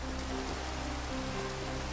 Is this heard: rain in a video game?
yes